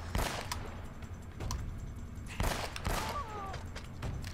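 Gunshots in the video game Uncharted: Drake's Fortune during a church fight, a few sharp cracks spaced about a second apart over a steady bed of game noise and music.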